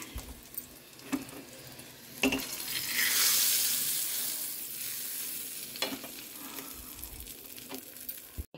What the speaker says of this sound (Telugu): ఇక ఇప్పుడు చారులో కూడా పోపు చేసిన